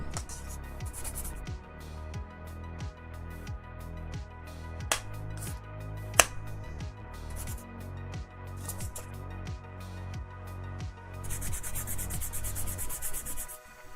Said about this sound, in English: So here's my 2000 grit sandpaper. You can go through all of it and smooth it.